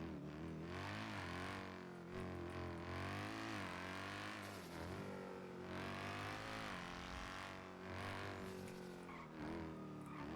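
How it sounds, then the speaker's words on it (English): A car engine in the video game GTA roleplay server NoPixel drones and revs continuously, rising and falling in pitch with racing-style acceleration; quiet overall, with no talking. "Oh, this car is so loud and annoying."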